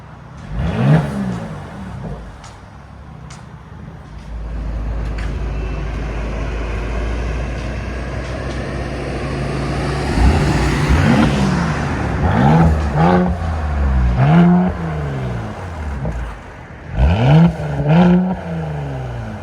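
Mercedes GLE 43 AMG with a 3.0-litre twin-turbo V6 and muffler-deleted exhaust, revved repeatedly in loud close bursts that swoop up and fall back, between stretches of steady idle.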